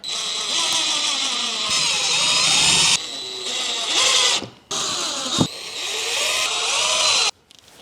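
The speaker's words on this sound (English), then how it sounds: "Then screw all the mounting brackets in." A power drill drives screws to fix mounting brackets for garage lights, the motor whining in several long, loud bursts with brief pauses and a ratcheting clutch, close up with no talking.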